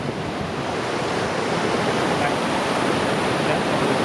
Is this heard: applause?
no